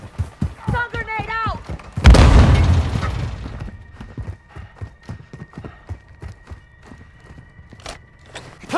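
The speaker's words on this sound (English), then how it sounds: "Stun grenade" A stun grenade detonates in Call of Duty: Modern Warfare II, a sudden loud blast that rings out and slowly decays amid game effects and voices.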